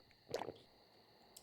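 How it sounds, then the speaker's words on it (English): A single short gulping, sloshing drink sound from the survival video game 7 Days to Die, brief and fairly faint, followed by quiet and a small click at the end. "Let's drink some water."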